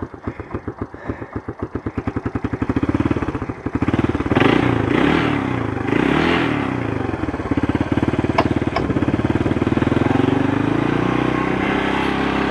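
A cold-started Honda 200SX engine runs on a snowy day, first sputtering unevenly, then settling into a loud, steady idle close by. No one speaks.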